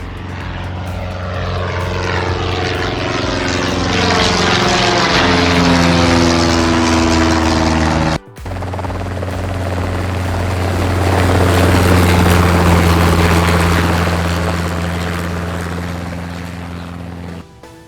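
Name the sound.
turboprop aircraft propeller engine flying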